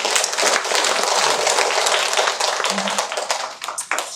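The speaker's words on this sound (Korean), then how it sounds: "우리 하나님께 영광과 찬양과 감사의 박수 올립시다" A large church congregation applauds steadily during a sermon, a dense wash of clapping that holds strong and then begins to thin out toward the end.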